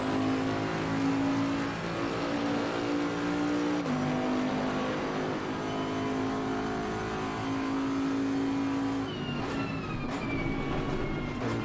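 A race car laps Suzuka in Assetto Corsa Competizione, its engine droning loud and steady through the gears with sustained revving, a downshift and brief drop in pitch near the end, and no talking.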